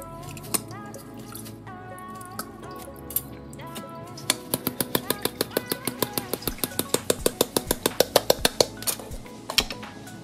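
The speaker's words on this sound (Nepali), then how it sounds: "मेरो सिस्नो पकाउने भाँडा चाहिँ यो पकाउनु समाउनु सजिलो होस् भनेर यस्तो ह्यान्डलवाला भाँडा छ।" A handled cooking pot is moved about on the stove while water heats for cooking nettle greens. A few scattered taps give way to a fast, steady run of close metallic clicks and rattles, with no voices.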